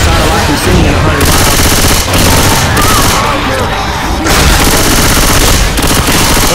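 Dense, continuous gunfire in Left 4 Dead 2, with rapid bursts and booms packed into a loud, sustained clatter and a voice talking under the shooting.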